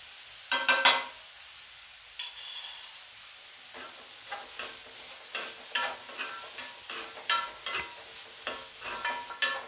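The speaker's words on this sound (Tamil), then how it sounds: "மிளகாத்தூள் நல்லா பச்சை வாசம் போகிற அளவுக்கு கொஞ்சம் 2 நிமிஷம் வதக்குங்க." Chilli powder, pepper powder and salt being sautéed in a pan for a vegan omelette: repeated scraping stirs at a regular pace, with soft sizzling between strokes and a louder clatter near the start.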